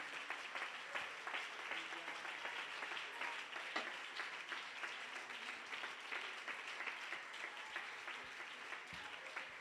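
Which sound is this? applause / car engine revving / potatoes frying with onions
applause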